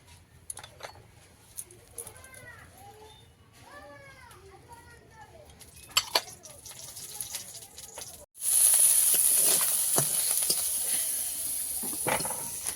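Loud, steady sizzling of onions and green chilies frying in oil starts abruptly and continues, with children's voices chattering and playing in the background before and during it.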